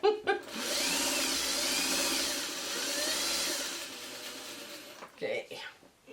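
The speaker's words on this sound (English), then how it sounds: "And we'll just keep sewing along here." Sewing machine stitching white fabric with green speckles for an Inukshuk pattern, a steady motor whir with fast needle rattle running for about four seconds, then stopping as handling noises and brief bumps follow.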